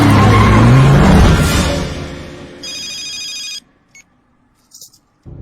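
A phone rings in bursts of electronic trilling, loud and close, following a roaring vehicle sound that fades out, with a short pause and a brief sound at the end.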